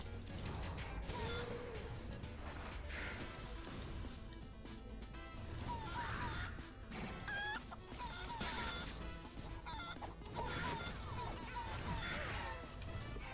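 Cartoonish chicken clucking in the video game Guacamelee! 2, repeated squawks amid crashes, hits and mechanical game effects, with a player talking over it.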